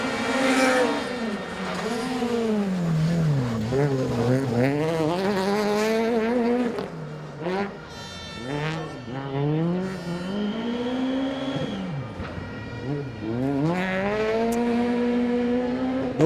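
Rally car number 45 on a Rally Estonia special stage, the Elva town test, racing past with a loud engine rising and falling through repeated revs and gear shifts, staying close and continuous throughout.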